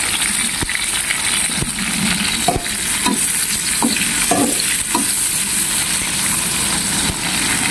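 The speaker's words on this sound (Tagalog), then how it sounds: "Natin na ipa-fry guys is yung chili, green chili and red chili." Green and red chili sizzling in hot oil, a continuous loud frying hiss broken by several sharp scraping stirs of a utensil, with no one speaking.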